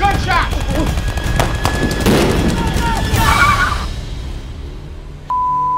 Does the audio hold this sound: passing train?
no